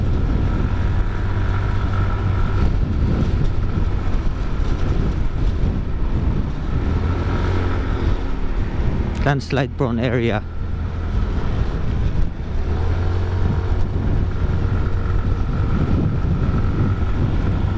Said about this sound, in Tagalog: Grabe, ang lakas na ng hampas ng hangin.